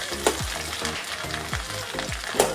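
Garlic sautéing in a pan for Tamil vatha kuzhambu: a steady close sizzle with repeated scraping spatula strokes in a loose rhythm, no voices.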